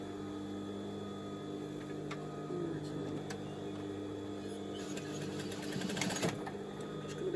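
A sewing machine runs in a steady, continuous hum as it stitches a trouser hem, with the overlocked edge tucked under, on trousers cut from the bottom of a maxi dress; the motor drones evenly, with a slightly busier stretch near the end.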